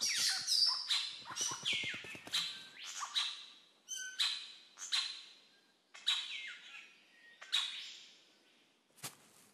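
A golden bowerbird calls in an Australian forest, giving a series of sharp, harsh chirps and rattling bursts that repeat every second or so, close and clear with no voices.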